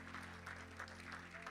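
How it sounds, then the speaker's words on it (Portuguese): A church congregation applauds during a worship service, a faint, steady wash of clapping with a constant low hum running underneath. "Os que podem, tomem seu assento aplaudindo a Jesus"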